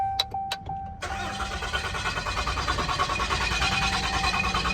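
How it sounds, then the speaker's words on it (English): A 2020 Ram 3500 pickup with DEF problems cranks without firing: after a couple of sharp clicks, the starter churns in a steady rhythmic whirr, loud and close, with the engine never catching. "I know she won't crank, but she just turns over."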